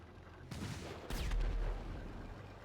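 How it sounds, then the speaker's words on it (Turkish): Rockets fire from a mini tank in GTA 5 as two quick sharp blasts about half a second apart, the second followed by a deep low rumble that lingers and fades. Both are fairly faint. "Roket atıyor."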